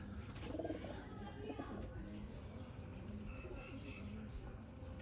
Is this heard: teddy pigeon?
yes